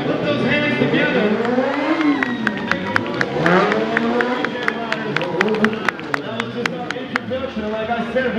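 A BMW motorcycle spinning in circles at a New York motorcycle show stunt performance, its engine revving and wailing up and down repeatedly under an announcer's voice and a cheering crowd.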